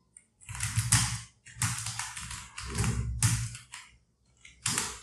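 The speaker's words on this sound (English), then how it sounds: "I'm typing the new word" Bursts of close, quick keystrokes on a computer keyboard come in short clusters separated by brief pauses.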